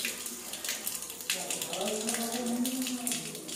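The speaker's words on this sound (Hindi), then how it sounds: "मैं यहाँ पानी चालू करके दिखाता हूँ" Water runs from the tap of an Elena Prime electric storage water heater: a steady, close splashing flow that grows fuller partway through.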